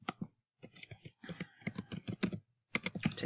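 Computer keyboard typing in fast bursts of clicks and key taps, close and fairly loud, with short pauses between runs.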